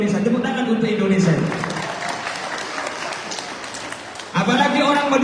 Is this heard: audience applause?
yes